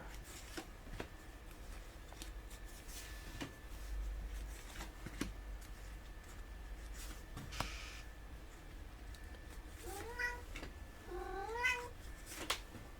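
A cat meowing in a quiet indoor room, a couple of short faint meows near the end over soft background hiss and occasional light taps.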